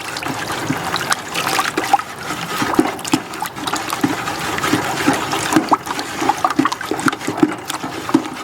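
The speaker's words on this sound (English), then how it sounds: "Add about a quart of water," About a quart of water poured into a pollen patty mix for bees, giving a steady trickling, splashing flow with irregular little gurgles and drips, close and fairly loud, running for several seconds without speech.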